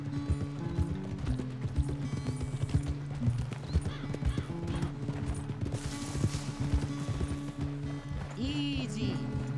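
Horse hooves clip-clopping at a steady gait in the Western video game Red Dead Redemption 2, a continuous close rhythmic clatter with occasional snorts and faint background game ambience.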